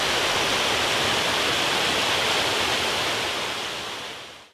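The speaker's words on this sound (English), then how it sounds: "All that rain we got made this creek beside my shop run pretty heavy." A creek beside a workshop running heavy after rain, a loud, steady rushing roar of water close by that fades out at the end.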